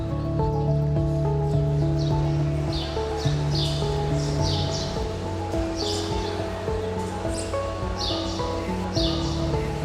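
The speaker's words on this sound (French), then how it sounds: "Alors il y a des oiseaux à l'intérieur," Birds chirp inside a vegetable market hall in Olhão, Portugal, with bright, repeated bursts of calls over the hall's steady hum and clatter; no one speaks.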